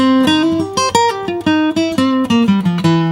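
Blues guitar arpeggio lick in C over a 1-4-5 progression, a clear run of quickly picked single notes stepping up and down in steady rhythm, close and loud with no talk.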